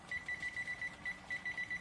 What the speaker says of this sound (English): we'll need a timer